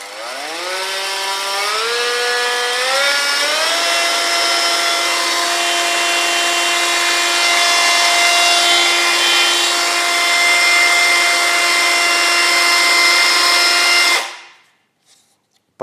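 Parkside PBFA Li A1 cordless roller sander running alone at higher speed, a steady whining motor drone that rises in pitch over the first few seconds, holds loud and even, then cuts off near the end.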